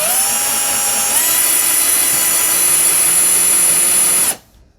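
Power drill bores steadily through a thick stack of junk journal pages, a loud continuous whine with a slight pitch shift early on, running alone until it stops abruptly near the end.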